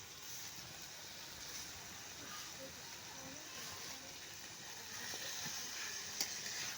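Potatoes frying in hot oil with garlic paste, a soft continuous sizzle with occasional light crackles and a small clink near the end, fairly quiet and steady.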